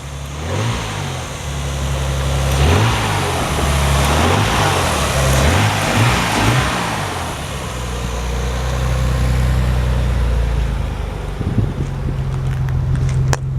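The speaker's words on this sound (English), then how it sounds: "Rev up a little bit." A 1991 Nissan 300ZX Twin Turbo with 48,000 miles revs in a series of rising and falling engine blips, loud and close, then settles into a steady idle.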